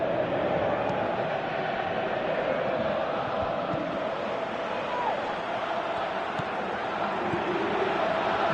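Stadium crowd in the PES 2018 football game, a dense, steady roar of massed voices at an even level throughout, with no clear individual words.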